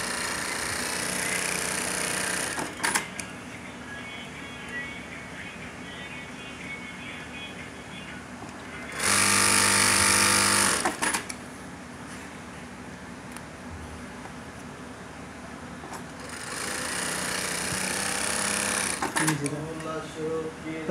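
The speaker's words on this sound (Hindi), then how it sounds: "अभी आपको सिलाई लगा के दिखाएंगे" A sewing machine stitches after its hook timing has been set, running in a loud steady whir for a few seconds at a time in several bursts, with pauses between them where someone talks.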